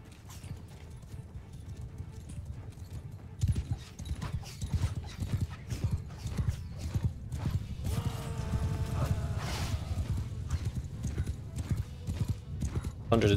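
Cavalry horses gallop in a battle in the video game Mount & Blade II: Bannerlord, a dense, continuous drumming of hooves amid battle noise and occasional whinnies, with someone talking over it.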